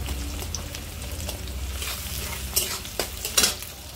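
Onions and bay leaf frying in a pan for egg curry, with a steady close sizzle under light stirring and two sharper utensil scrapes near the end.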